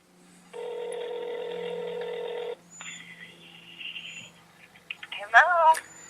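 A telephone ring tone heard through a Verizon mobile handset: a steady electronic tone for two seconds, then quieter tones and brief voice sounds.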